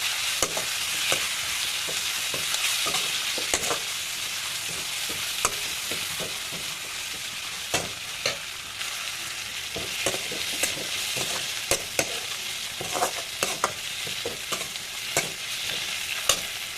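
A tomato and turmeric mixture for tamarind chitranna sizzles steadily in a pan while a spatula stirs and scrapes it in frequent irregular strokes, close and continuous with no talking.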